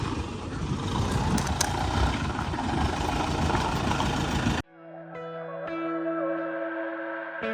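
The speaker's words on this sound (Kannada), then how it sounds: "ಸೊ ಈಗ ಫಾರೆಸ್ಟ್ ಜೀಪಲ್ಲಿ ಒಂದು ಶಾರ್ಟ್ ರೈಡ್ ಹೋಗ್ತಾ ಇದ್ದೀವಿ." A forest jeep carries riders toward a sunset spot in Dandeli. Its engine rumbles steadily with road and wind noise for about four and a half seconds, then the sound cuts abruptly to music.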